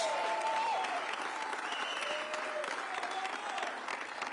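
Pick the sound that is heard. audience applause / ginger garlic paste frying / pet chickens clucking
audience applause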